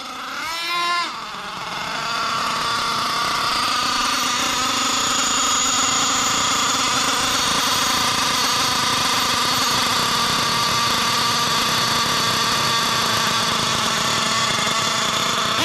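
A Losi LST XXL nitro RC truck engine starts and settles into a steady, buzzy idle close by, running continuously and loudly with no talk over it.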